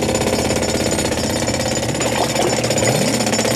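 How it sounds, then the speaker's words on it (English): Loud jackhammer pounding without a break, a dense rapid rattling hammer with a harsh metallic buzz running steadily through the whole stretch. "Using this jackhammer."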